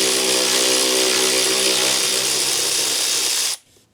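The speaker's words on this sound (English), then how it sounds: "These have nuts on the bottom, so we'll use our battery ratchet." Battery ratchet spinning nuts off the flywheel cover of a Polaris quad, a continuous loud close whirring buzz for about three and a half seconds that stops abruptly.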